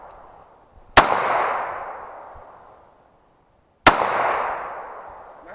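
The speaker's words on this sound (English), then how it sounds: "we're going to put some rounds through it and see how it performs" Two sharp, loud pistol shots from a Sig P220 Equinox fired outdoors at a range, spaced about three seconds apart, each followed by a long echoing decay.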